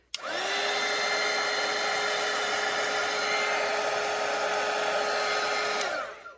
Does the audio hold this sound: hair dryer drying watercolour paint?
yes